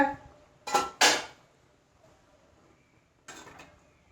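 A metal lid comes off a pot of dried-shrimp and drumstick curry as it simmers: two sharp, close clanks in quick succession, a quiet pause, then one more softer clatter of metal.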